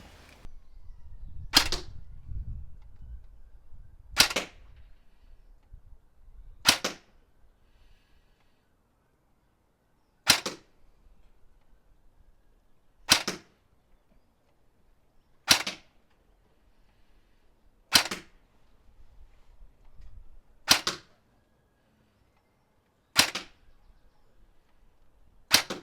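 Cyma CM.041G MP5A3 airsoft replica firing 0.28 g BLS precision BBs as single shots, ten sharp close cracks spaced a few seconds apart, with faint handling rustle between them.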